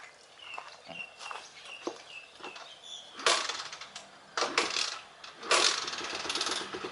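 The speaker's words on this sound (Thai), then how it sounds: "ผมจะกดสตาร์ทที่รีโมทให้ดูเนาะ" A Honda KSR motorcycle fitted with a remote anti-theft alarm is started from the remote, with clicks and mechanical noises followed by loud bursts of engine noise close by.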